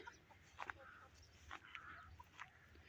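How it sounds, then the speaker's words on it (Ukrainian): Chickens roam and peck through an autumn garden, giving soft clucks and brief chirpy calls in short bursts over a quiet outdoor background. "Курочки наші пішли, пасуться."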